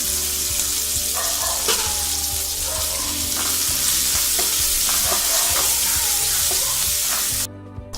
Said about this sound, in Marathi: मिरची चांगली परतून घेऊया.